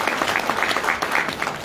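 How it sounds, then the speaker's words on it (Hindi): Audience at a business seminar clapping loudly: dense, continuous applause from a crowd, steady throughout with no pauses and no voices. "मैं चाहूंगा अपने लवली टीम के लिए एक बार जोरदार ताली"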